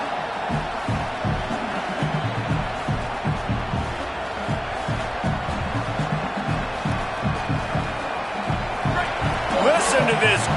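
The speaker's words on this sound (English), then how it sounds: "Listen to this crowd just shaking the girders of this place, trying to help their defense." Stadium crowd at a Ball State versus Virginia football game, a dense sustained roar throughout, swelling louder near the end.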